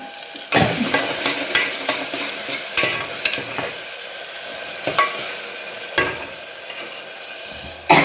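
Ridge gourd pieces dropped onto onions browned in a pan sizzle steadily while a spoon scrapes and stirs them in sharp, irregular knocks, close and fairly loud.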